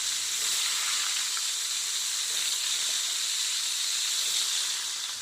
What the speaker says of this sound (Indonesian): Kemudian goreng tahunya.